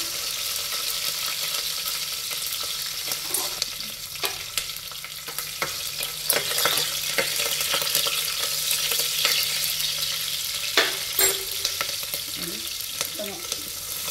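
Cumin seeds and green chillies fry in hot oil for tomato rice bath, a constant close sizzle punctuated by scattered light clicks and scrapes of stirring, with no voices.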